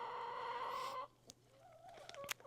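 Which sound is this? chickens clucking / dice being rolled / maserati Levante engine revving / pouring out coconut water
chickens clucking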